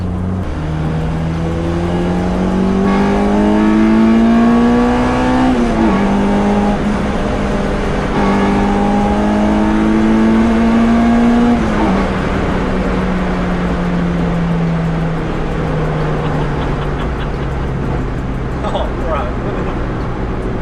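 A K-swapped Honda Civic coupe's engine drones steadily with rising pitch as it gains speed, shifts gear and climbs again, then eases off; loud and close.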